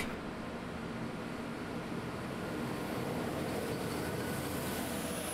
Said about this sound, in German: Hier zu sehen ein Zug der Linie RB 82, die alle 2 Stunden verkehrt.